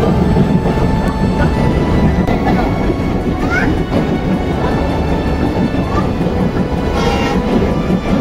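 A passenger train runs between Khulna and Mongla with a loud, continuous rumble of wheels on rails, faint squeals cutting in now and then.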